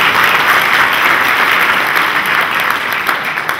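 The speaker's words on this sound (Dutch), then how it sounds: "Dank u heren, Pieter en Nicola, een applaus alstublieft." An audience at an academic lecture breaks into dense, sustained clapping that stays loud and steady, then eases slightly toward the end.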